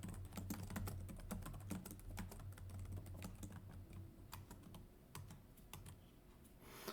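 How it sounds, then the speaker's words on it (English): Steady run of close key clicks from typing on a computer keyboard, quick irregular keystrokes continuing for several seconds over a low hum, with no voices. "Let me type that down so that I don't forget."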